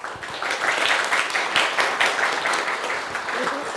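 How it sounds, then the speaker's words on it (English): Conference attendees at a session on climate change in forestry and agriculture in Moldova applaud their panel with a steady, moderately loud round of clapping. Individual hand claps are audible within the wash, and a voice is faintly present. "I think it would be right to give our panel a round of applause for their excellent insights."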